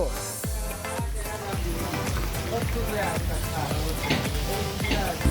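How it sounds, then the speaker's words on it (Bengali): Hilsa fish frying in a pan at a riverside food stall at Mawa Ghat, giving a steady sizzle over a busy background with regular low thumps and voices. "মডেলিং ছেড়ে এখন ইলিশ ভাজতে"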